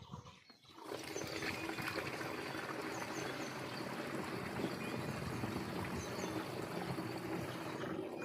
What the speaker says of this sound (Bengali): আমার এখানে 5 লিটার জল আগেই মাপা ছিল, আমি এটা ঢেলে দেবো